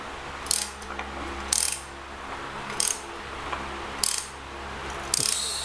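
A ratchet turns a Toyota 4AGE engine over by hand in short clicking bursts, five spaced strokes with quiet hum between them.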